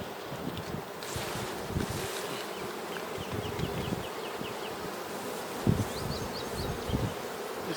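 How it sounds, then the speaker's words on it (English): Honeybees buzz densely around a hive frame outdoors, a constant swarming drone with occasional closer passes and light wind noise, no voices. "If you brush bees, just go real gentle."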